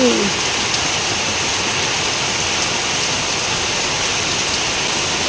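Steady rain hisses evenly and continuously, a constant wash of falling water without pauses.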